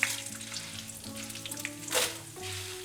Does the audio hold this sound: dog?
no